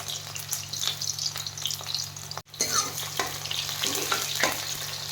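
Onions and okra frying in a pan, a steady close sizzle with scattered crackles and a brief cut partway through, no one talking.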